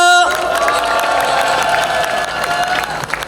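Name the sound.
audience applause and cheering welcoming a speaker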